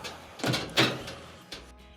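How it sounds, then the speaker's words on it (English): Dryer door being shut during a repair on a clothes dryer with a damaged moisture sensor: a couple of close clunks and thuds, the loudest near the middle, then a lighter knock, with no talking. "We'll go ahead and close the door."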